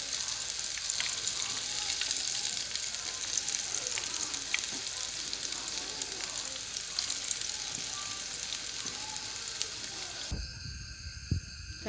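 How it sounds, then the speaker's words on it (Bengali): Onion fritters (piyaju) frying in a pan of oil give a continuous soft, close sizzle and crackle, then end with a brief clatter of handling near the close. "সব পেঁয়াজি দিলাম, তারপরে এখন ভাজি তত সময় পর্যন্ত ক্রিস্পি হয়েছে না"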